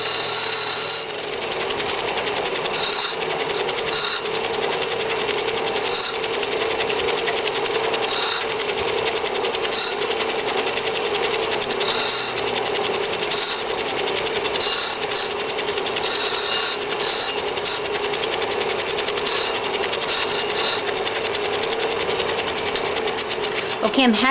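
A lapidary grinding wheel works the back edge of an oval stone cabochon, a continuous whirring drone with a high-pitched scraping whine that rises and falls as the stone is moved around.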